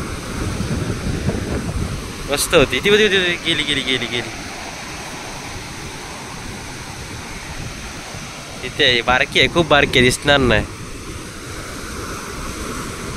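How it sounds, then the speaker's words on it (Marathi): Sea waves wash steadily onto the beach at Achara on the Konkan coast, a broad, continuous surf roar under wind noise, while people talk at intervals over it. "आणि लाटा येत आहे"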